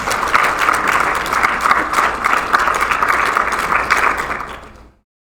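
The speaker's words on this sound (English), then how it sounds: "why don't you all give yourselves a round of applause?" A conference audience gives itself a round of applause, a dense, steady roar of many hands clapping in a large hall that fades out near the end.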